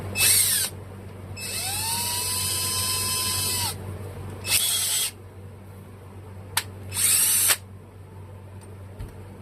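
A cordless screw gun spinning a chucked Bolens Husky push mower carburetor part for polishing, whirring in a few loud bursts that start and stop, one long run with a rising pitch, up close with no talk.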